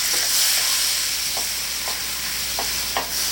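A spoon stirs a roux of flour and fat browning in a hot pan for SOS gravy, giving a steady close sizzle with soft repeated scraping strokes; no one talks.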